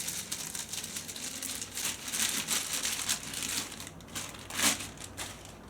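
A small yellow bag holding the burner of a Trangia 27-8 UL-HA alcohol stove crinkles and rustles up close, a steady run of crisp crumpling with a sharper crunch near the end, no talking.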